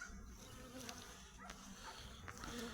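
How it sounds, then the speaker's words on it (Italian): Honey bees buzzing around a heavy beehive frame full of honey and pollen, a steady close droning hum with a few brief louder passes from individual bees. "Api ce ne sono."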